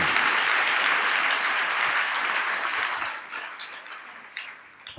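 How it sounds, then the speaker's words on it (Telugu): A church congregation claps during a sermon, a dense burst of applause from many hands that holds strong for a few seconds, then thins out and fades. "చప్పట్లు కొట్టే ఆనందం."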